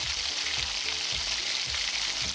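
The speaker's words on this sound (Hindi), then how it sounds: "ये इसको लाइट ब्राउन तक होने तक इसको भूनेंगे। ये हमने इसके अंदर डाल दिया जी चॉप किया हुआ लहसुन" Chopped garlic frying in hot oil gives a continuous close, bright sizzle with faint low knocks of stirring underneath.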